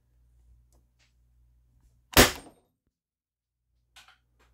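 An Umarex HDP 50 compact pistol fires a single sharp, loud shot midway through an otherwise quiet stretch, followed later by a faint click.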